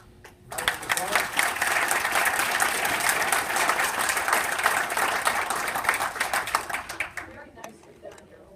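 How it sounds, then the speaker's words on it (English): An audience breaks into a round of applause at a national speech or debate competition, many hands clapping loudly and densely for several seconds before thinning into scattered claps and fading. "Round of applause."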